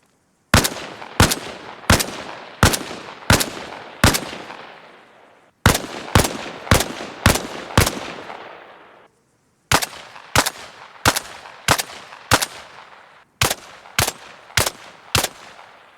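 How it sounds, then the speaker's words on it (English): AK and M16 rifles in ARMA Reforger fired up close, suppressed and unsuppressed: four loud bursts of five to six sharp evenly spaced shots, each burst trailing off in a reverberant tail, with brief pauses between bursts. "Here's what the main guns, the AK and the M16, sound like suppressed and unsuppressed up close."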